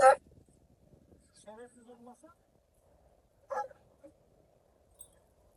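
Kangal and Anatolian shepherd dogs give a few short barks and whimpering yips, one sharp bark at the start and brief bursts later, heard over quiet outdoor background with people talking.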